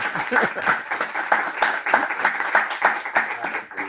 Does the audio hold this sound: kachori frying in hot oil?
no